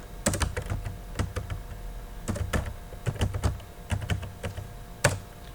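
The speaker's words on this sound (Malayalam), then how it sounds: "ഇനി അടുത്തത് ഇവിടെ ഒന്ന് സെക്കൻഡ് നെയിമായ ഫെർണാണ്ടസ് എന്ന് ടൈപ്പ് ചെയ്യുക" Typing on a computer keyboard while entering names into an Excel spreadsheet produces close, crisp clusters of key clicks in short bursts separated by brief pauses, with no voices over them.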